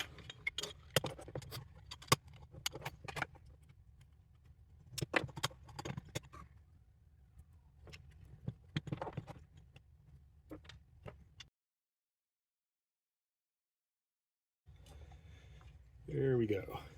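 Motor being mounted onto a DIY 4040 V-slot electric actuator with an Igus high-helix lead screw: a run of close metallic clicks, taps and rattles with low hum, a brief silence, then a whirring burst near the end.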